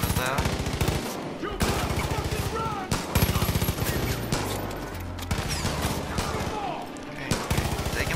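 Dense gunfire in the video game Far Cry 5: heavy automatic fire and blasts roll almost continuously, loud and close, with brief breaks between volleys.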